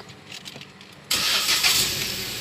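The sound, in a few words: Proton Persona 1.6L automatic car engine starting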